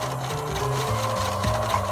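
A sewing machine runs steadily, stitching black trim onto gray gym bench upholstery, a close, continuous mechanical whir with a rhythmic rubbing pulse and slight speed shifts throughout, no voices.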